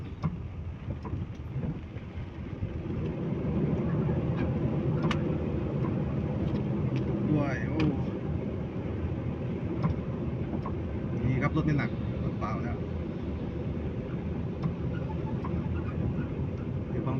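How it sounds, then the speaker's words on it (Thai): A car descending a hill in low gear on a road in Ranong province, southern Thailand, gives a steady, broad engine rumble with road noise that holds throughout. "เกียร์ต่ำลงเขานะครับ"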